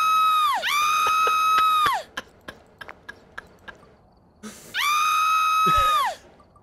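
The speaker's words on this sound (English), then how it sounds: "What is the horror scream?" A loud horror-movie scream effect sounds twice, each a long, sustained shriek, with a run of sharp ticking clicks in the quiet gap between them.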